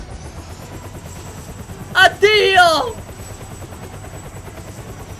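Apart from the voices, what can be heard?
helicopter flying in Roblox video game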